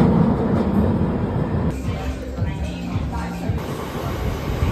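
Train station ambience on a windy day, a steady loud rumble of rail noise and wind filling the whole stretch, with faint tonal hums from a train underneath.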